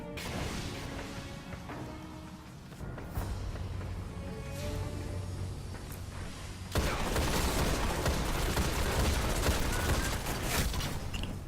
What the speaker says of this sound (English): it seems like I got a couple of good shots off